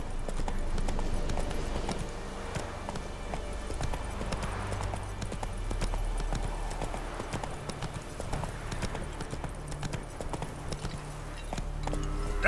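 Roach the horse trotting in The Witcher 3, a steady run of clip-clop hoofbeats held at even loudness throughout with no gaps, carrying on alone without talk.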